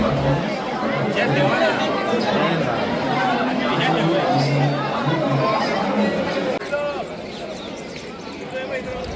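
A large crowd queuing at the Taj Mahal main gate fills the air with dense, continuous chatter from many voices, steady and close, thinning slightly near the end.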